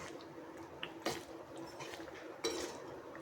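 A spoon stirs matar paneer curry in a pan, giving soft wet squishing with two sharp clinks of metal against the pan over a steady low kitchen background.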